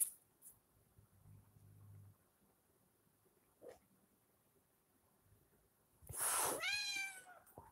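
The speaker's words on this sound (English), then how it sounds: "My cats have been fighting like crazy." Cats fighting somewhere in the house: a faint yowl early on, then a loud burst of screeching, rising and falling cat cries near the end, with quiet background between.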